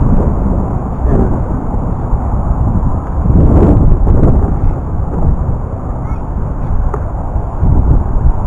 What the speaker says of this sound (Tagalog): Sarap pakiramdam kasi yung simoy ng hangin tama lang